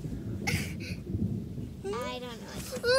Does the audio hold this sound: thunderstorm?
yes